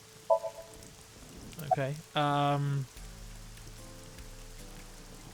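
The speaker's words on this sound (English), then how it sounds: "Right now she's standing in the pouring rain with her umbrella up." Steady pouring rain falls in AI: The Somnium Files as a soft, even hiss in the background, beneath a brief spoken word and a few short tonal game sounds.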